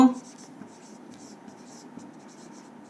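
Soft scratchy strokes of writing on a board during a classroom lesson on money, short scrapes in an uneven rhythm over a quiet background.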